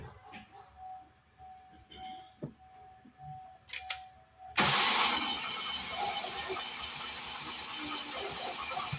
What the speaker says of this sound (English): I'm going to try to start the car